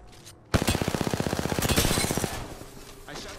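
Rapid automatic gunfire in the Apex Legends battle royale video game, a burst of about twenty evenly spaced loud shots lasting under two seconds, then fading tail.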